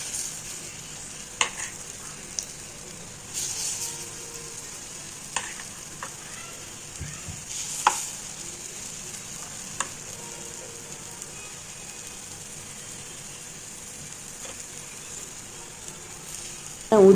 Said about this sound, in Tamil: ஊற்றிட்டு மேலே கொஞ்சம் எண்ணெய் எடுத்து சுற்றி கொஞ்சம் எண்ணெய் எடுத்து ஊற்றிப்போம்